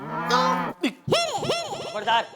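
A buffalo gives a loud, close moo that rises and wavers over about two seconds, heard alone in a comedy TV scene.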